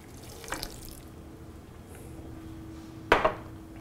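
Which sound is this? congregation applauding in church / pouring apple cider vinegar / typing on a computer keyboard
pouring apple cider vinegar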